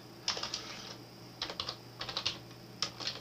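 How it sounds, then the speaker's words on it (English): Typing on a computer keyboard: short bursts of crisp key clicks in quick clusters separated by brief pauses, close and clear over a faint steady hum, with no talking. "we can left click the start button and type on our keyboard"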